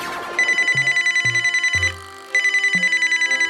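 A telephone rings in a steady electronic trill, repeating in short bursts with a brief pause partway through, fairly loud and close, alone without voices.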